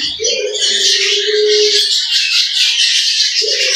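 Budgerigars at a breeding farm call loudly and close, a dense layer of chattering chirps running throughout with a few longer harsh squawks standing out.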